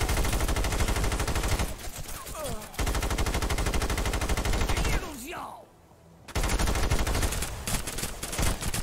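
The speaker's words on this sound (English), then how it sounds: "I thought somebody was shooting behind me" Sustained automatic gunfire in a SOCOM online match, dense rapid bursts that break off briefly and then resume, loud and close.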